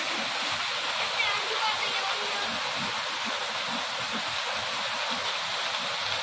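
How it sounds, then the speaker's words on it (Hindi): Grata Waterfall at Tararkhal in Azad Kashmir pours down in a steady, broadband roar of falling water, continuous and close, with no break across the whole stretch. "ये पानी नीचे गिर रहा है"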